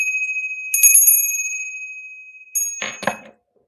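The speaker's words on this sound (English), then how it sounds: "This is a 741 hertz crystal tuning fork." A 741 hertz crystal tuning fork rings with bright, high, bell-like tones that slowly fade. A second strike near the end brings a short burst of clinking before it cuts to silence.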